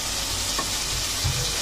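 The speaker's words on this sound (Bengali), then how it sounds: "একটু ভালো মতো মুরগিটাকে ভাজা ভাজা করে নেব" Chicken pieces coated in spices fry in a pan with a low, steady sizzle that carries on throughout, with a couple of soft stirring knocks near the end.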